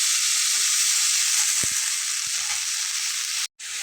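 Snake gourd pieces fry in a hot pan with soy sauce, giving a loud, steady sizzling hiss with a few soft knocks and a brief drop partway through.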